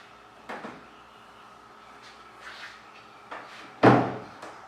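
Double wooden doors fitted with a newly installed latch are opened and closed from outside, giving several soft knocks and rattles before a sharp, close slam near the end.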